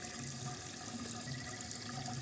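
A backyard pond pump, an A4000 model, pushes water up quickly through a blue-drum concrete pond filter, giving a steady, close rushing and splashing wash with no pauses.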